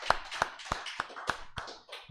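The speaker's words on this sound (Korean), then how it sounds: "하나님께 영광의 박수 돌려드리겠습니다." Congregation applauding during a church worship service, a series of sharp, evenly spaced claps about every third of a second, moderately loud and close, with no talk over them.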